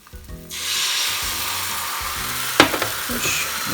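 Second batch of beaten egg poured into an oiled tamagoyaki pan, a sudden loud sizzle bursting in after a few soft knocks and holding steady, with a brief scrape and tap of a utensil midway.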